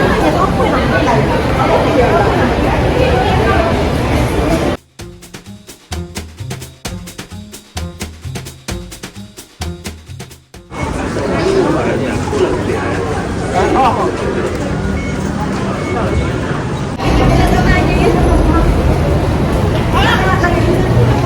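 Steady rumbling noise of a moving MRT metro train fills the space, interrupted midway by a burst of music, with a person speaking over the ride.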